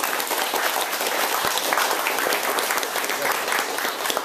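An audience applauding at an event, steady dense clapping that fills the whole stretch, loud and close, with no voices rising above it.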